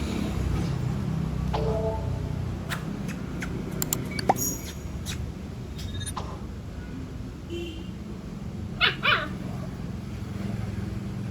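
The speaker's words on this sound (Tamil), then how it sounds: "ரொம்ப நேரமாக நாய் குலைச்சிட்டே இருந்துச்சு." A dog barks inside a pet shop that sells fish tanks, giving a few scattered barks and yips over steady indoor background noise, with one clear double burst near the end.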